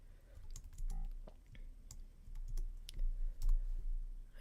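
A chmod command typed on a computer keyboard, close, irregular key clicks in quick bursts with short pauses, no talking.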